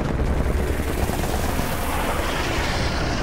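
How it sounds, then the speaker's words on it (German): A helicopter arrives in the shooter Call of Duty Modern Warfare 3, its dense rotor roar filling the scene amid the noise of a firefight, loud and continuous. "Da kommt der Hubschrauber."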